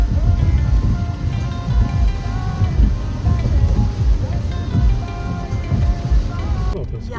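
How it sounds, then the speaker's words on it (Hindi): Rain begins falling outdoors during a Janmashtami gathering in Mumbai, a dense continuous patter loud and close, with murmuring voices and crowd noise underneath. "बारिश शुरू हो गई है।"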